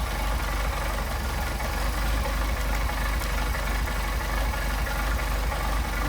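A Mercedes 190SL engine with Solex carburetors idles steadily at close range, a continuous loud low rumble with an even pulsing beat and no pauses.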